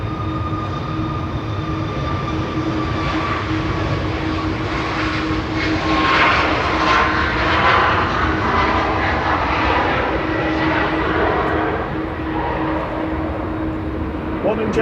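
An air tanker aircraft's engines roar at Manchester Airport, a loud, sustained drone with a steady tonal whine that swells slightly in the middle, with faint voices underneath.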